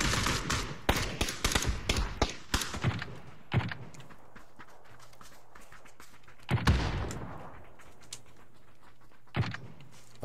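Video game gunfire crackles in dense bursts of rapid shots for the first few seconds, then gives way to sparse, isolated reports amid quieter background.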